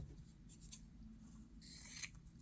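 Scissors cutting through dark fabric, faint crisp snips and a brief sharper slicing burst over a low steady background hum.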